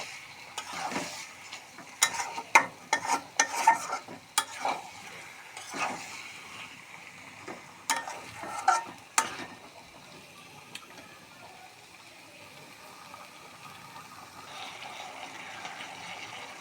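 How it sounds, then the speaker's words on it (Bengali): Meat is stir-fried in a pan for a dal dish, with scattered scraping and clanking of the spoon over a low, steady sizzle that grows quieter toward the end. "মাংসটা একটু কষিয়ে নিব।"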